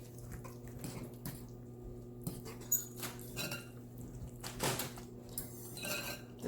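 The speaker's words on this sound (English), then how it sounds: "The sound of these, this fork bothers me" A metal fork stirs tomatoes and shrimp in a dish of feta pasta made with spaghetti squash, giving a string of irregular close clinks and scrapes against the dish, with light wet squelching between them.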